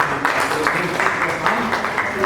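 An audience applauds at a talk on COVID-19's impact on seniors, a steady wash of clapping with rhythmic bursts, a voice speaking over it.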